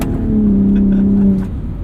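A 2021 Ford F-150 Raptor with the 37 Performance Package accelerating hard at full throttle on a dirt road, its engine note swelling into a loud, steady roar for about a second before easing off.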